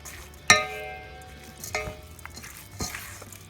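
Lao chicken salad tossed in a bowl after salt and MSG go in, giving a sharp clink of utensil against the dish, then softer scrapes and a second clink a couple of seconds later, close and fairly quiet.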